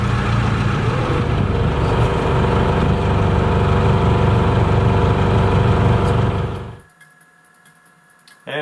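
An aluminum work boat's engine runs at a loud, steady mid-pitched drone with the clutch put ahead, then cuts off abruptly, leaving near silence at a seaport museum.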